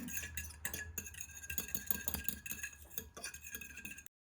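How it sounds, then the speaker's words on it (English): Eggs whisked in a bowl for zucchini fritters: a quick, even run of light metallic clinks and taps, close and fairly soft, going on without pause until it stops abruptly, no talking. "Break up the yolk and whisk it up as much as you can."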